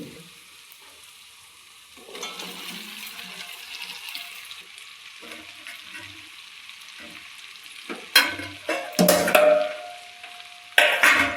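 Okra goes into a pan with half a lemon and starts frying: a soft sizzle builds, then louder bursts of spluttering and stirring scrapes come near the end, close up, with no talk.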